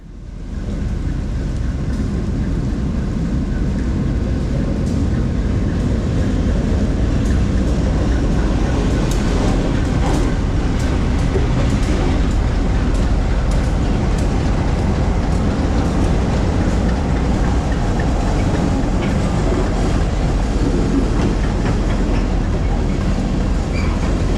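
A P&W CT2 freight train starts up the Danbury branch in heavy rain, its diesel rumble loud and steady near at hand, with faint metallic clicks of wheels over rail joints on top of a wet background wash.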